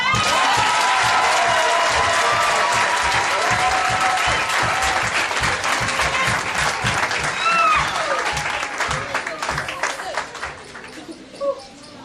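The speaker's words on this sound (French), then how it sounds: "si tu veux acclamer, acclame" Enthusiastic applause with cheers from a church audience during a prophet's testimony, loud and continuous at first, then thinning into scattered claps near the end.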